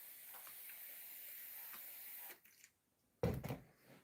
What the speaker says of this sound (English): I just want to spray them now